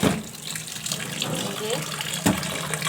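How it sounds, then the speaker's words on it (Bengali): Small taro corms are washed under running water, a steady splashing faucet stream filling the whole stretch with a couple of louder splashes. "এই কচুগুলা এখন আমি ভালো করে ধুয়ে নিব।"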